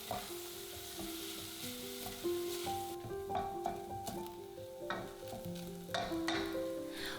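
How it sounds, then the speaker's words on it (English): Chopped onion and garlic sauteing in a saucepan over medium heat, giving a steady close sizzle broken by occasional stirring scrapes, with soft tonal background notes throughout. "saute the aromatics over medium heat until"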